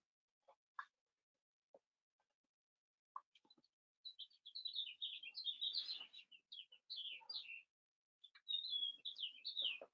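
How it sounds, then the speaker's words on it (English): Birds chirp outside an open window on a sunny day in Arizona, starting with a few sparse, faint calls and building into busy, continuous twittering and song. "Someone has some great birds."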